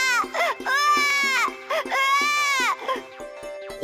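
Babies in an animated story cry from inside a watermelon: loud, close, wavering wails repeat in several rising and falling bursts, sounding like cartoon voices imitating infant crying.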